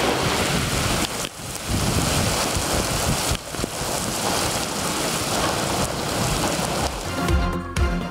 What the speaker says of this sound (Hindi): इस्लामाबाद और रावलपिंडी में तूफ़ानी बारिश।